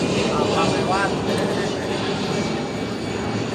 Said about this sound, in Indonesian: Pesawat lewat tuh.